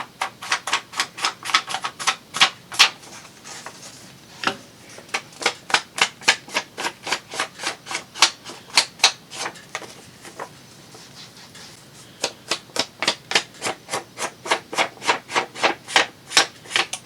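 Ink applicator rubbed along paper edges, a long series of quick rhythmic scuffing strokes in bursts with short pauses, close and fairly soft.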